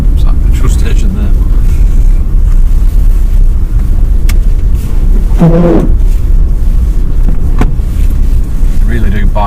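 Winter tyres crunching and biting into packed snow while a car drives through a Siberian city, a steady low rumble with wind noise throughout and people talking over it.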